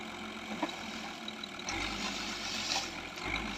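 Six-wheeled sugarcane grab truck engine idling nearby at a low steady level, with a couple of brief louder rumbles.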